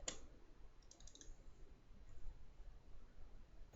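A single sharp computer mouse click at the very start while modeling in SketchUp, followed by a near-silent room with faint background hiss.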